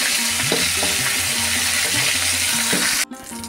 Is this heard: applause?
no